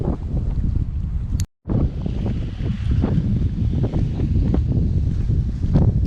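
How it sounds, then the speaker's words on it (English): Strong wind buffets the microphone in continuous low rumbling gusts at Long Key State Park, Florida, with a brief dropout partway through and no voices. "It's really windy."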